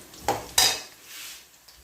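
Onions browning lightly in oil with cloves and black pepper for pulao, stirred in a pan: two sharp metallic spoon clinks against the pot, then softer scraping with a faint sizzle beneath.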